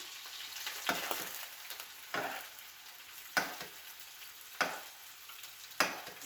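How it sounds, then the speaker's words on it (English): Steaks sizzling in a pan while being basted, a soft steady frying hiss broken by five louder spattering bursts about every second as hot fat is spooned over, no voices. "I'm just gonna constantly baste these steaks."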